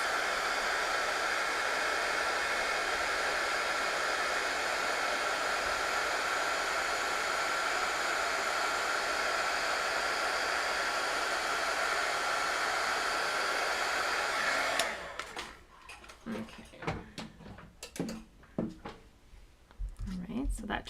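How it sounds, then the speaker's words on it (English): A heat embossing tool blows hot air steadily and loudly for about fifteen seconds as a constant broadband whoosh, then shuts off, leaving scattered light handling clicks and rustles of card paper. "I'm going to heat emboss this."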